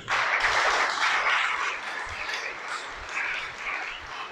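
An audience at a religious sermon breaks into applause, a loud burst of many hands clapping that gradually thins and softens over several seconds.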